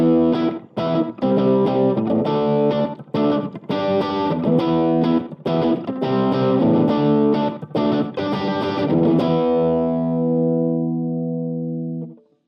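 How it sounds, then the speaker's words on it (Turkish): Electric guitar played through a Nux Mighty Space amp on a crunch tone with light drive, room reverb and delay. It rings out loud in strummed chords and short stabs, then a final chord sustains and fades, with no talking. "Az drive'lı crunch bir ton zannedersem."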